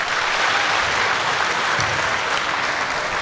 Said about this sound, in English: How about a big round of applause for the class of 2014, these girls high school basketball players this year.